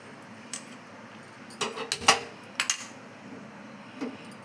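A small metal pot is set down on a kitchen stove while cooking, with a few light clinks and a sharper clank of metal on metal over quiet room noise.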